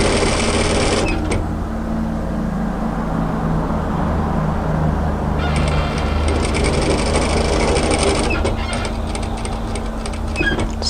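A sewing machine runs steadily while stitching a seam on a kimono kaftan, a continuous mechanical whir broken by short pauses and restarts, close and loud with no talking.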